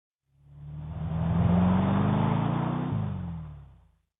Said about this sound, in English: the car drives along the street